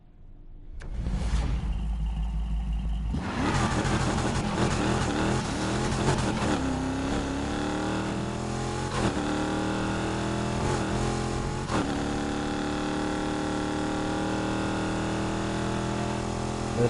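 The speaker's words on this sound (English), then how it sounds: "This is such a good sounding car" A car engine in the racing game NFS Heat starts and revs hard, a loud sustained roar climbing and dropping through gear changes, continuous and close with no talk.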